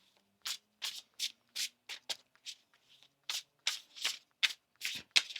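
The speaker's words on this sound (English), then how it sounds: "One more shuffle here, please, and thank you." Tarot cards are shuffled by hand, close up, in about a dozen quick papery riffling bursts with short gaps between them. No one speaks.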